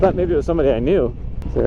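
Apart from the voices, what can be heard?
None of the usual background noises is heard.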